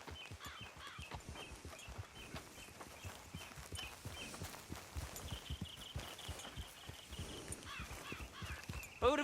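Horse hooves clip-clop at a steady walking rhythm on a trail in the Red Dead Redemption 2 video game, close and continuous for the whole stretch, with faint game ambience and distant bird calls behind.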